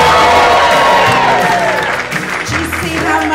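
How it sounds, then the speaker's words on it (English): A live comedy audience of adults without kids cheers and applauds loudly for a few seconds, a dense wash of clapping and whoops filling the room. "And if you don't have kids, give us a cheer."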